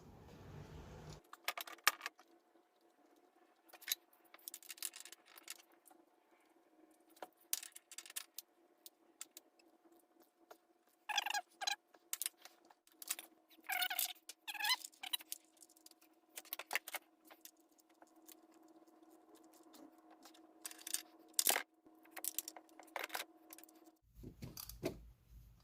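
A socket turned by hand on a spark plug in a Subaru Outback 3.6R engine gives off intermittent light metallic clicks and ratcheting rattles over a quiet background, with occasional short clusters of taps.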